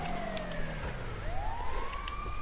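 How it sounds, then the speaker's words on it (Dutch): A wailing video game ambulance siren rises and falls over a steady rumbling background, sounding moderately distant. "Ik hoor al een ambulance."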